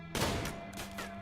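Gunfire in the video game Rimworld, a short burst of sharp, loud shots lasting about a second over a steady game tone.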